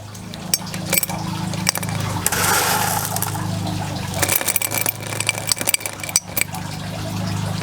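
Clay LECA pebbles poured into a plant pot for a hoya, a continuous rattling clatter of small hard balls with bursts of louder clinks, close up and without talk.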